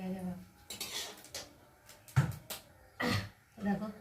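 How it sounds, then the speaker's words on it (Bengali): Metal utensil clinks and scrapes against a pan as a fried egg is lifted out, a few sharp knocks in quick succession, close, under someone speaking Bengali. "দেখো ভেজে তুলে নিলাম।"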